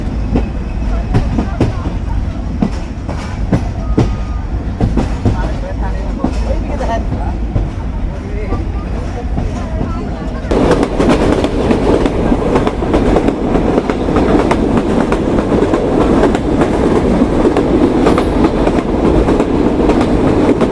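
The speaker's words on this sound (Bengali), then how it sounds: "আমাদের ট্রেন গুনে গুনে 2 মিনিট যাত্রা বিরতি দিয়ে চলতে শুরু করলো।" Rupsha Express passenger train rolling on the rails after a two-minute stop, a loud continuous rumble with clickety-clack from inside the carriage that grows louder and heavier about halfway through.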